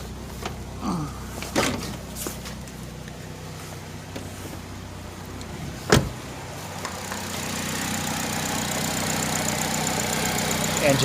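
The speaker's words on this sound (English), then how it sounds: "Engine sounds good." A 2007 Chevy Cobalt with 191,935 miles idles at a steady, moderate level, with a few brief knocks and a sharp click near the middle before the engine noise swells slightly toward the end.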